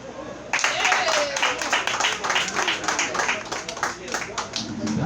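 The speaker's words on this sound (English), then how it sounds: "Let's give some applause for yourselves." Comedy show audience bursts into applause, a dense wash of clapping from a crowd at close range that starts abruptly and carries on steadily, with voices calling out over it.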